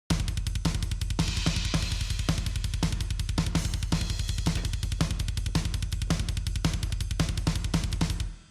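A raw black metal drum kit preset plays alone in a fast, relentless blast beat: rapid kick drums, a steady snare and washy cymbals, loud and dry throughout.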